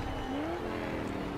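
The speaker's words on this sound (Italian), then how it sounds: "Senti i motori." In a Forza Horizon 3 race, a car engine drones and climbs in pitch for a brief moment, fairly faint and steady, with no talk over it.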